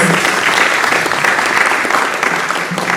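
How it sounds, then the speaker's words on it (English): A large audience at a leadership awards ceremony for young African leaders gives a round of applause, dense and loud, sustained evenly throughout without a break. "give him another round of applause"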